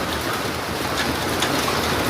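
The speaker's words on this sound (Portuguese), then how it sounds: "Chuva de gelo." Hail pours down in Curitiba, Paraná, a dense, continuous patter of ice pellets striking surfaces. The sound is loud, even and unbroken throughout, with no voices.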